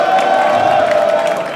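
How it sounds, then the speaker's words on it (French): A rap battle audience cheers and claps after a performer's round, a loud, dense crowd roar with whoops and a sustained tonal hum running beneath, held steady for a brief moment. "On peut applaudir le passage, s'il vous plaît."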